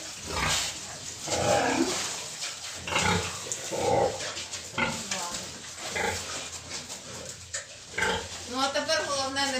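Sows and piglets grunting and snorting in a barn, with a dog-like yelp or two, while a person talks over the animal noises throughout.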